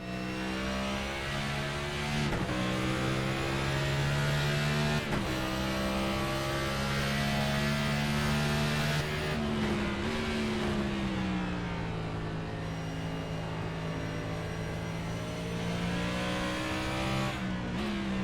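Car 82 heard onboard during a race, its engine droning loud and close with steady harmonic pitch that dips and climbs through gear changes and throttle lifts, running continuously without talk.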